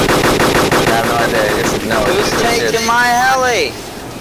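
Gunfire in the video game DayZ rattles out in rapid automatic bursts, loud and close, mixed with excited voices talking over it.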